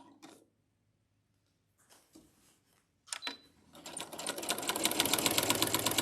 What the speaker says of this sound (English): This walking foot does exactly what it's supposed to do, which is it walks my fabric along underneath and on top